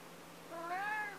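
A single cat gives a short, rising meow, close and fairly quiet, heard on its own indoors.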